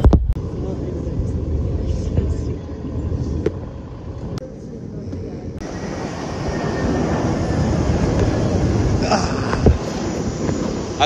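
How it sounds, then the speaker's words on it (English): Low engine rumble and road noise inside a moving airport shuttle bus carrying passengers to the plane, steady throughout with occasional knocks and rattles, no one speaking. "we're currently getting a bus ride from the airport to the plane itself"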